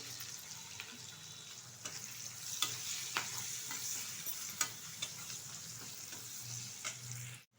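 Onion sizzling in hot oil with turmeric powder added, a continuous frying hiss broken by scattered scrapes and stirring knocks, fairly close and alone.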